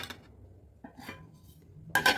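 A metal lid clanks shut on a cooking pot on a gas stove, a few faint scrapes and taps followed by a sharper, louder metallic clink near the end, with no talk.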